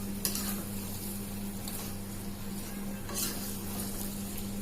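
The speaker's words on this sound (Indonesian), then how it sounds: "kita aduk bareng-bareng" Fried gourami fillets stirred through sweet and sour sauce in a pan, a soft scraping and gentle sizzle with a few sharper utensil scrapes, quiet and close.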